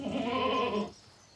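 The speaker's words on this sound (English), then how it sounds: "it's the sound of a goat that is frustrated at being isolated from other goats" One loud, drawn-out bleat from a goat frustrated at being isolated from other goats, strained and wavering, lasting under a second before cutting off into quiet.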